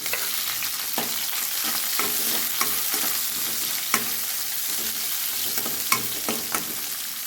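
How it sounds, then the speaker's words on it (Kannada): Garlic and green chillies frying in hot oil after mustard seeds and cumin, a dense continuous sizzle broken by frequent crisp spatula scrapes and taps against the pan, close and steady with no voices. "ಅದಕ್ಕೆ ನೋಡಿ ಇವಾಗ ಬೆಳ್ಳುಳ್ಳಿ ಹಾಕ್ತಾಯಿದ್ದೀನಿ ಹಸಿಮೆಣಸಿಕಾಯಿ"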